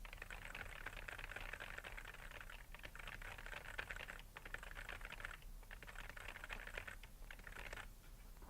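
Gibberish is typed on a computer keyboard as a quiet, steady stream of rapid key clicks, with a few short pauses between bursts.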